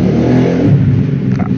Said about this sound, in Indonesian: Sangat mengganggu sekali itu suara motor.